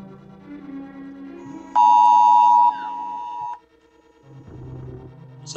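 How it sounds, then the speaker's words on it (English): Electronic alarm beeping, a loud sustained steady tone for about a second, then quieter tones that stop abruptly, with other muffled sounds around it. "All sorts of alarms are going off today."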